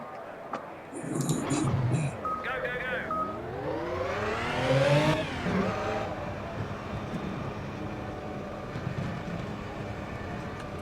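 A hybrid hydrogen-boosted race car in the Project Cars video game, the engine revving and sweeping sharply up in pitch before dropping back, with electronic beeping tones early on and a steady drone afterward.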